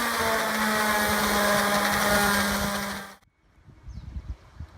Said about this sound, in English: We have to sand it with a 220 grit sandpaper. We're going to use a Black & Decker mouse that we have all set up here.